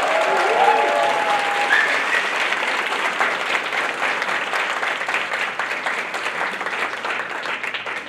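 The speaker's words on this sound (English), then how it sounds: "Warm applause for the whole." Sustained warm applause from a large crowd at an anniversary banquet, steady and full, with a few whistles or cheers rising above the clapping early on.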